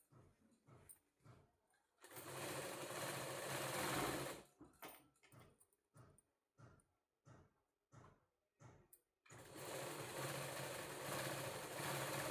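A sewing machine stitching a blouse whirs in short bursts: a few seconds of continuous running, a string of brief stop-start pulses, then another steady run, close and quiet.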